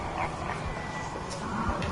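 Dogs bark and yip in a video game outbreak scene, a few scattered, moderately close calls over a noisy background.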